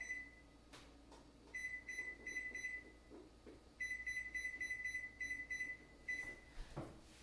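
An electronic oven timer is set while baking chocolate chip cookies, giving two runs of quick, steady, repeated high beeps in a quiet kitchen with no talking.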